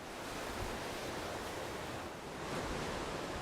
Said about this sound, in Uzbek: Dengiz mavjlari ovozi sizning oromingizga o'zgacha huzur bag'ishlaydi.